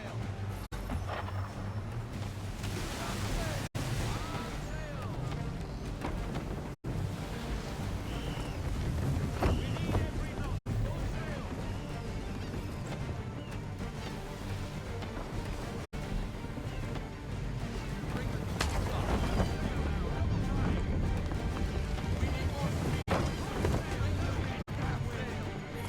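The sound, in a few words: sailing ship at full sail in Assassin's Creed III video game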